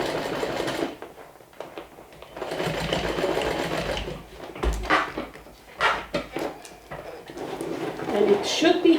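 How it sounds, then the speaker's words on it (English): Sewing machine stitching the seam allowance on a clear vinyl beach bag, a loud continuous mechanical whir with short pauses and restarts, alongside light handling knocks and occasional talk. "I sewed the seam allowance on one side and I'm going to do the same thing on the"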